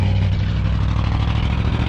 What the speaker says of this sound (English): It's a Brutus roller model 2M. Boy, that thing needs an exhaust.